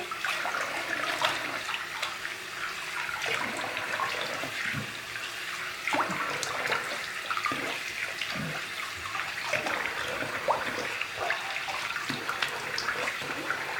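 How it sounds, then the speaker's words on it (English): Cold water runs from a tap and splashes during a shave with a Kamisori shavette, a steady faucet stream broken by irregular splashes and drips, fairly close and moderately quiet, with no talking. "All right, cold water splash."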